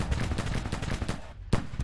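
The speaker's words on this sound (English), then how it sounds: "all these cannons here are just instantly targeting my artillery battery" Rapid overlapping booms of cannon fire in the American Civil War strategy game Grand Tactician, a dense crackling volley of shots with a couple of sharper blasts near the end, loud and continuous.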